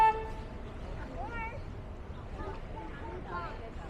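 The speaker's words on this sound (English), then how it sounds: "I'm going to honk the horn here." A tour boat horn on the San Antonio River Walk sounds briefly at the start, steady and moderately far off, then fades under a person talking and background chatter.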